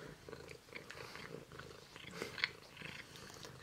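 A cat purrs close up in a steady, soft rhythmic rumble, with faint chewing-like clicks and small rustles mixed in, and no voices.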